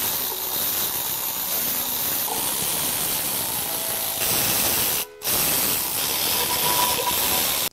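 Work on the pulley plate of a Weber plate compactor gives a dense, loud hiss-like mechanical rattle, probably a power ratchet loosening bolts, continuous with a brief break near the end.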